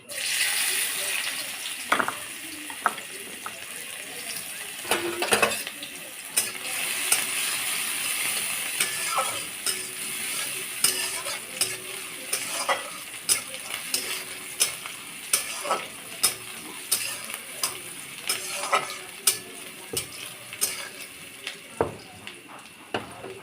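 Onions sizzling in hot mustard oil in a pan, stirred with a spatula that scrapes and clicks in an irregular rhythm over the steady frying hiss, close up, with a voice talking at times.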